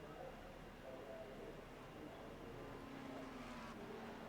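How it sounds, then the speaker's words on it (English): A race car engine idles in the Le Mans 24 Hours racing video game, heard from the cockpit view as a faint, steady low drone with a hiss of background noise and no clear change in pitch. "I swear the car's on. I actually hear it on."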